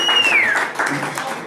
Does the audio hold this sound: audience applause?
yes